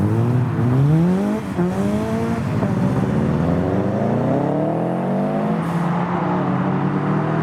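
Mitsubishi Evo with a viscous limited-slip differential leaving a car show meet. Its engine revs hard and loud, pitch climbing through the gears as it accelerates close past, with a continuous roar and no talk.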